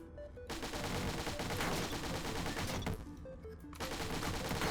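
Rapid Uzi fire in the Dungreed game, a continuous rattling stream of quick shots mixed with game music and brief pauses.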